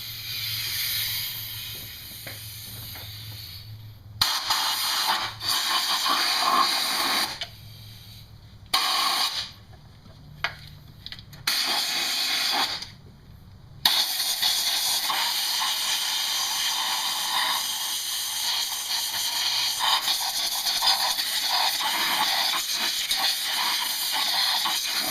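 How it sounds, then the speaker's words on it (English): Compressed air blasts around the fuel injectors of a Dodge/Jeep 4.7 or 3.7 engine in loud hissing bursts, several short sprays with gaps and then one long continuous blow, close up with no talk. "take some compressed air and shoot it around those injectors"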